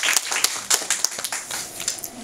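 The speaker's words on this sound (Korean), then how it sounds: "교수님 박수로 환영해 주시기 바랍니다" An audience gives a professor a short welcoming round of applause indoors, a scattering of distinct claps from a modest group that comes in uneven bursts rather than a dense roar.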